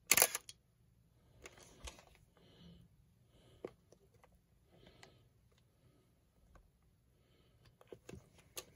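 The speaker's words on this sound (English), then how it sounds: "lens focusing to infinity. You hear confirmation sound" A camera lens focuses to infinity and gives its focus confirmation sound: quiet mechanical clicks and short motor whirs, then a soft brief beep. Everything is close by and faint against near silence.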